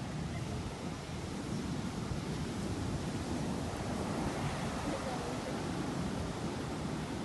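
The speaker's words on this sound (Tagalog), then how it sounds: "sobrang lakas ng alon ngayon" Strong ocean waves at Sila V Beachfront, a continuous dense roar of surf with wind buffeting the microphone, steady and loud throughout with no distinct breaks.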